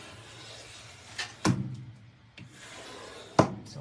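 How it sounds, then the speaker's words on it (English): An antique vintage paint scraper rasps across a painted surface in a few short, separate strokes, with quiet gaps between the scrapes. "So we're talking paint scraper."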